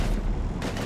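Heavy gunfire bursts loud and close in a Mass Effect 3 firefight, a dense blast of shots and booms with no pause.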